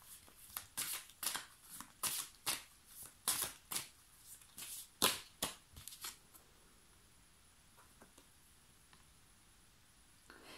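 Playing or tarot-style cards are shuffled and handled close up in quiet, a series of about a dozen crisp riffling bursts in quick succession, then fading into faint occasional taps as cards are drawn.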